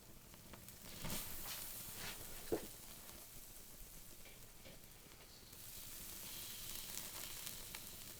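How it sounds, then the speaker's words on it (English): A small pot on a homemade alcohol stove boils over and sizzles quietly, a faint crackling hiss with a few sharp pops, rising slightly toward the end. "It must have boiled over or something."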